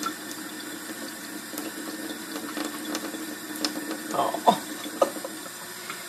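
Tap water running for the bath of a silicone baby doll, a faint steady trickle and splashing close by, with a brief exclamation from a voice.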